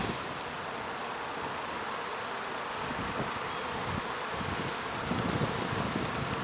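A dense, steady buzz of many honey bees at an open hive fills the air up close, constant throughout with a faint rustle underneath.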